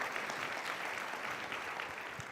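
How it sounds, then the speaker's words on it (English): Audience applause at a TED talk, a dense steady clapping from a large crowd that holds at an even loudness for a couple of seconds before easing slightly at the end. "Give them a round of applause as they make it to the stage."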